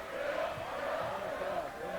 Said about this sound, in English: Very vocal student body on both sides, packed gymnasium. You'll hear a lot of crowd excitement tonight.